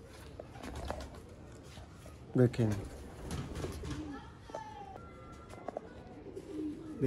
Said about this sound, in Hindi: यूनिक क्वालिटी के चपड़े कबूतर